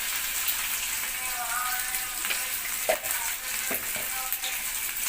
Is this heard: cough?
no